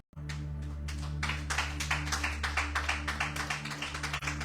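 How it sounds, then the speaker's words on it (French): A church congregation claps along in a steady rhythm over a sustained low organ or keyboard drone, the claps coming sharp and regular once they get going. "Applaudissez le Seigneur."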